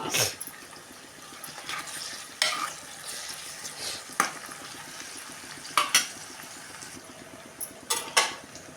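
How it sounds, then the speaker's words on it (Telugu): Onions softened in a pan with tomatoes just added, frying and being stirred, giving a steady low sizzle broken by several sharp scrapes and clinks of a utensil against the pan, close and moderately loud with no talking. "ఉల్లిపాయలు మగ్గిన కదా ఇప్పుడు టమాటాలు కూడా వేసుకుంటున్నాను"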